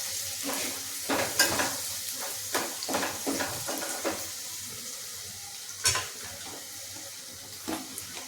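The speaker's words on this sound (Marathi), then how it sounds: "हळद छानपैकी मिक्स करून घ्यायची." Turmeric is stirred into purslane (ghol) bhaji sizzling in a pan: a continuous close frying hiss broken by repeated scraping, clattering stirs at irregular intervals, with no voices.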